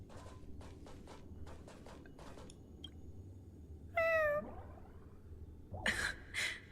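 A pet cat in the Honkai Star Rail video game gives one clear, close meow over soft footsteps and background ambience, followed by two shorter, higher cries a moment later.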